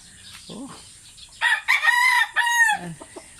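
A Golden Boy Sweater gamecock rooster crows loudly and close by in one long drawn-out call, with a few softer clucks before and after and no talking.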